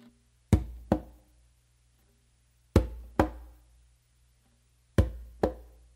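Three pairs of strokes on a tumba conga drum, each pair a deep palm bass followed quickly by a sharper finger stroke, played close and alone with pauses between the pairs.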